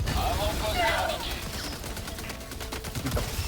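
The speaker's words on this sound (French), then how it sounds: "10 ans à recharger ce fusil à pompe." Shotgun fire in the co-op shooter game Helldivers 2, a dense chaotic stretch of gunfire and combat noise with repeated sharp blasts, loud and steady throughout.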